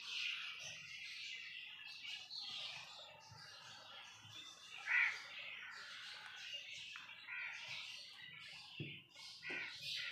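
Scattered high pigeon chirps and squawks, fairly faint, with low rustling and a brief louder call midway; no clear cooing stands out.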